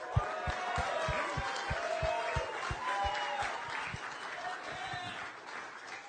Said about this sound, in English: Please, big round of applause for Reshat Mati